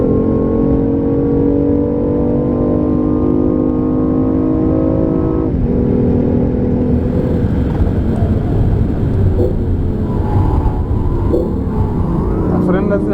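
A BMW i8 hybrid sports car accelerating hard on a straight road, a loud rising engine drone climbing through the gears with a shift midway, then a steady rumbling cruise with wind and road noise inside the cabin.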